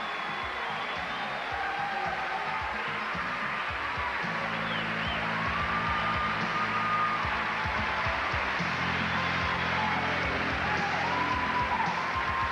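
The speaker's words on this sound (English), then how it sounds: "How about one more round of applause for all 51 of these terrific contestants?" A steady wash of audience applause for the 51 contestants of the Miss World America 1992 pageant, filling the hall evenly with no voices heard over it.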